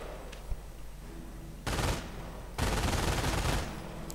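Machine-gun fire at advancing riflemen in a multiplayer strategy video game: two sustained bursts, a short one followed by a longer rattling volley, rising clearly over a low battlefield background.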